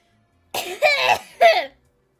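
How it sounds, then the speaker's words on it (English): A few harsh, throaty, phlegmy coughs close by, three bursts in quick succession with a short gap before the last, then silence. "The reason why I'm coughing is because I got a little bit of phlegm in the back of my throat"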